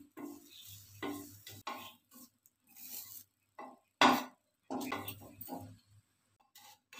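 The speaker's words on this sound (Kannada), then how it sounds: "ಇವಾಗ ಪುದೀನ ಹಾಕ್ತೀನಿ, ಬರೀ ಎಲೆನೇ ಕಿತ್ತಾಕೊಳ್ಳಿ, ಬೇಗನೆ ಫ್ರೈ ಆಗುತ್ತೆ। ಈ ತರ ಕಡಿಮೆ ಉರಿಲೇನೆ ಫ್ರೈ ಮಾಡಬೇಕು।" Fresh mint leaves frying in a pan over a low flame and being stirred: intermittent scraping strokes and light clinks of a utensil against the pan, separated by quiet gaps.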